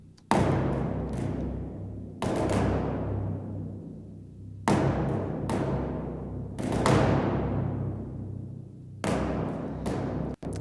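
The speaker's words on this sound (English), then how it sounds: "We've got some timpani hits which sound like this." Timpani struck with rods, from the Hans Zimmer Percussion sample library, boom out in about six loud, deep hits, some in quick pairs, each ringing and decaying before the next.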